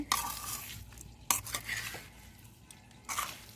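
Amla pickle being stirred in a pot over a wood-fired stove on a rooftop terrace garden, with a few sharp scraping clinks of the spoon against the pot and softer scraping between them, close by with no talk.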